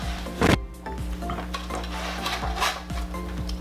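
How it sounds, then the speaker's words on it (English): Vegetables being tossed in a hot pan with a spatula give off scraping and clattering knocks, plus one loud clank near the start, over a steady low background hum. "you can grab a spatula and mix these around a little bit"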